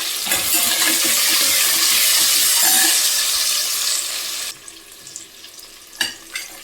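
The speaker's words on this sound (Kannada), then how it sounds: "ಈರುಳ್ಳಿ ತೊಗೊಂಡಿದ್ನಲ್ಲ ಅದನ್ನು ಸೇರಿ ಫ್ರೈ ಮಾಡ್ತಾ ಇದ್ದೀನಿ" Onions sizzling in a hot pan for a pulao, a loud steady hiss of frying for several seconds that then drops to quieter crackling with a few stirring clinks.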